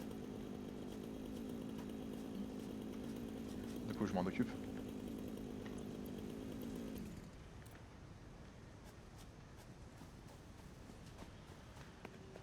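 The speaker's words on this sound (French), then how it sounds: "J'entends ta tronçonneuse." Satisfactory chainsaw cutting trees, a steady buzzing drone for about seven seconds with a brief revving flare midway before cutting out, with a voice speaking quietly nearby.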